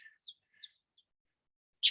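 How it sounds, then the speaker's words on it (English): A wild bird outdoors gives a few short, high chirps in quick succession. A slightly louder chirp follows after a quiet pause, and the setting is otherwise still. "Yeah, you hear that bird?"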